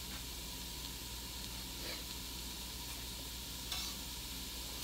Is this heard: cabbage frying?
yes